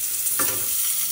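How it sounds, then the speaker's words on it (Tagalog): Chicken feet drop into a hot pan with onions and tomatoes, setting off a brief loud sizzle burst that settles into a steady bright hiss. "At ilagay na natin ang ating chicken feet."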